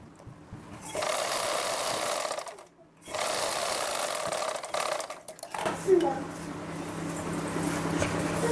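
An electric sewing machine stitching a lined blouse runs in sustained bursts with a brief pause, its steady whirring hum close and loud, followed by quieter handling sounds.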